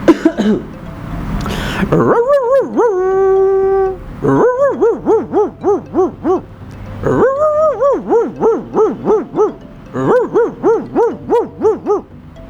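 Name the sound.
man imitating a big village haveli guard dog barking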